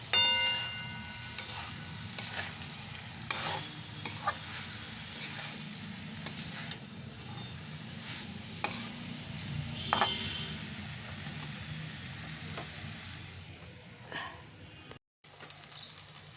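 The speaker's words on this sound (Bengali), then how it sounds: "এইভাবে আমি সবটাই মিশিয়ে নিচ্ছি।" Leftover cooked rice being stirred and mixed in a frying pan, with steady scraping and light clinking of a utensil against the pan throughout, close and moderately quiet, ending with a brief pause.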